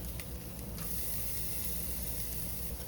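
Steady sizzling and hissing of onions and garlic frying in a hot pan, continuous and fairly close, with no voices.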